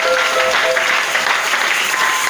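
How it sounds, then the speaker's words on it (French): A church congregation breaks into dense, sustained applause to acclaim the Lord, loud and continuous throughout with no voices above it. "Acclamez le Seigneur"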